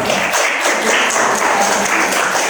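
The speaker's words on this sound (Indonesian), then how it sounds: "Kita beri tepuk tangan untuk kelompok 5 untuk maju ke depan." Classroom applause for a student group, steady dense clapping filling the whole moment at close range with no talk over it.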